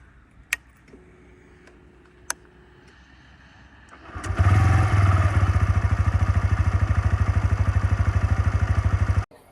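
A few faint clicks, then a TVS Raider motorcycle engine starts and runs in a loud, steady, rhythmic putter for several seconds before abruptly cutting off.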